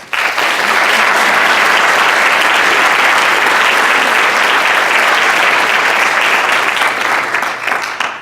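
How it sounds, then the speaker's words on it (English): An audience at a high school science research symposium applauds student researchers, a dense, loud wash of clapping that swells quickly and holds steady for several seconds before tapering off at the end. "let's give them a round of applause"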